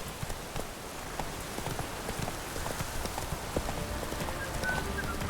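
Horse hooves clip-clop at a steady walking pace in The Witcher 3, a dense patter of soft, moderately near hoofbeats over faint ambient noise.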